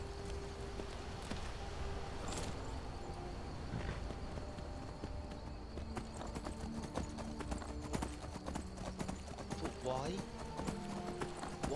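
Horse hooves clip-clop at a steady walking pace in the video game Skyrim, with a brief whinny, clear and close, while someone talks over them.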